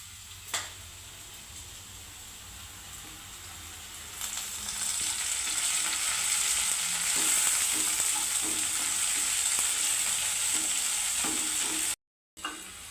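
Dried fish frying in a pan for Telugu pulusu, a continuous close hiss of sizzling oil that swells louder midway, with occasional stirring clicks and no talking.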